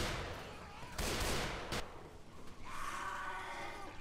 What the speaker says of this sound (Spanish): Le di como tres disparos